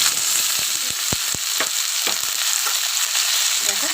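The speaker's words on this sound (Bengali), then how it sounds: "দেখো আমার পেঁয়াজটা লাল লাল করে ভাজা হয়ে গেছে" Onions fry in a pan until reddish-brown, a loud continuous sizzle with occasional stirring scrapes and taps, and no talking.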